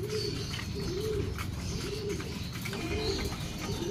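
A pet pigeon coos in a steady, repeated rhythm, each soft throaty call close and clear over a continuous low background hum, with no talking.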